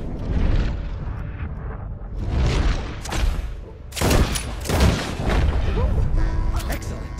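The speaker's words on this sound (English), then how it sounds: "You keep shooting, sir, and this time you kill the beast." Gunfire in Red Dead Redemption 2, rapid bursts of loud booming shots in clustered volleys, with a voice speaking between and under the blasts.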